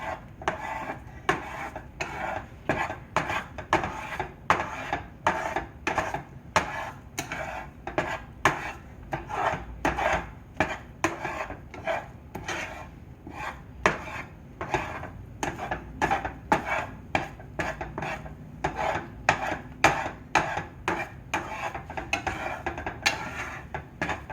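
Scrambled eggs are turned and scraped in a pan, a steady series of short rasping scrapes repeating for the whole stretch at close range, with no talking.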